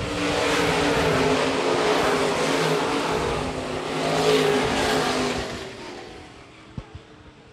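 Engines roar loudly as IMCA stock cars speed past on a dirt oval in a continuous drone, swelling once and then fading into the distance.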